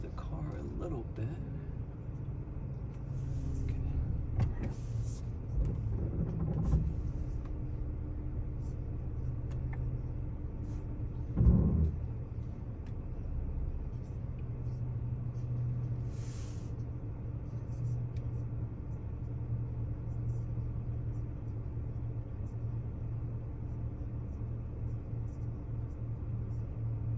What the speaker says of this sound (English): Sorry, just wanted to move the car a little bit.